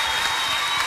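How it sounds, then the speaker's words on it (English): A theatre audience claps for a live band at a performance of the stage musical Summer Holiday, a brief burst of dense, even applause that is loud and close throughout. "Please give the applause going, ladies and gentlemen, for a fantastic band led by the one and the only Mr. Andy Rumble"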